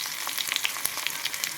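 Tempering spices crackle and pop in hot oil in a pan while making drumstick-leaf dal, with a dense, bright sizzle broken by frequent sharp little spits, close and alone.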